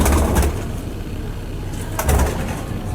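Champion pigeons coo close by, two short low throaty coo bursts separated by a quieter stretch of faint background hum, with no talking.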